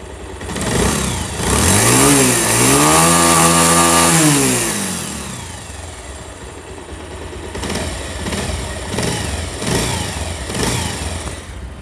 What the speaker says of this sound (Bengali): বাইকটার সাউন্ড শুনুন।